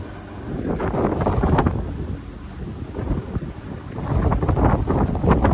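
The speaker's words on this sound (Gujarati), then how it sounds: "હવા થોડીક ભાંગી ગઈ. પવન છે થોડું બધી." Gusty wind buffeting the microphone on open water off Porbandar, with the low rumble and slosh of a fishing boat riding the sea, rising and falling.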